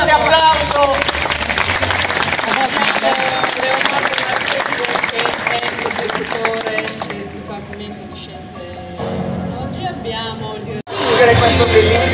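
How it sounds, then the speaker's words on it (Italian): Loud audience applause with cheering voices and crowd chatter at a science slam event on a campus stage, dense clapping filling the room, fading somewhat before a brief pause and a renewed burst. "Un forte applauso."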